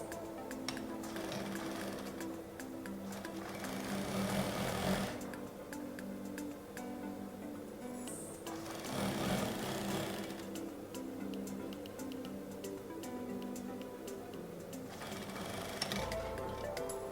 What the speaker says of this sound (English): So you are going to be sewing off what you added as your center front seam.